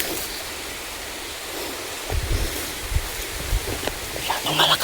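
Strong wind roars against the microphone in heavy gusts and buffets, with some thumping bursts toward the end.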